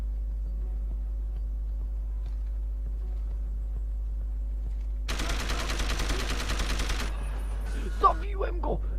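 Burst of rapid automatic gunfire in Deus Ex: Human Revolution, a loud dense volley lasting about two seconds over a steady low game hum, followed by a few sharp metallic hits.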